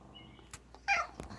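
A pet cat lets out a short, fairly loud meow amid a quiet home, with a few faint thumps and rustles around it.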